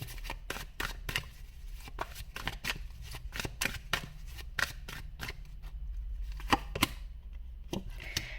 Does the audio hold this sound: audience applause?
no